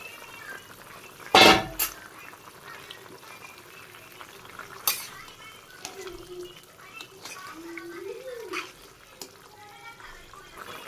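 Fish pieces go into a pot of simmering potato and cauliflower curry in a Bangladeshi village kitchen, making one sharp loud splash and clatter, followed by quieter bubbling and occasional small knocks.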